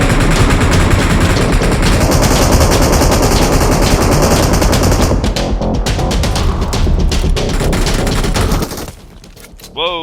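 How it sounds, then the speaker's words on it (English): Sustained automatic gunfire in PUBG Mobile Metro Royale, loud rapid bursts of machine-gun fire crackling continuously for most of the clip before cutting off near the end. "Gunfire coming from the right side."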